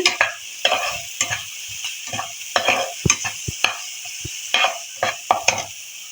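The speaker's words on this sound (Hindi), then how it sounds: "मसालों को हमने जलने नहीं देना, इनको हमने हल्की आंच पर भून लेना" Spices roast over low heat in a pan for aloo matar chaat, with repeated scraping stirs and a soft, steady sizzle underneath, close and fairly loud with no talking.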